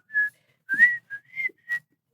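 A person whistles a short tune of five bright notes, close and clear, in a quiet room with no talking.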